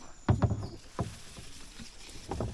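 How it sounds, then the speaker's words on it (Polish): A kayak is paddled across a lake in the rain, with a few splashy, irregular paddle strokes and light patter close by, separated by brief quieter gaps. "Płyniemy sobie na jeziorze, Pada deszcz"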